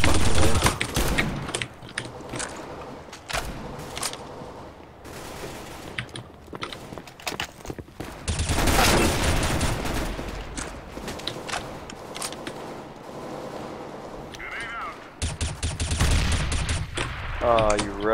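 Counter-Strike video game shootout with bursts of automatic gunfire and single shots spread across a running firefight, loud and clustered, with players talking over it.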